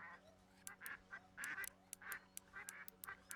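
Ducks quack repeatedly at a lakeside in the fishing game Fishing Planet, a faint irregular series of nasal honking calls at a distance, with no talk over them.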